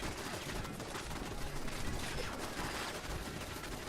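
Player-built turrets in a video game fire continuously, a dense, steady crackle of rapid shots blending into a constant noisy wash at moderate distance, with no pauses.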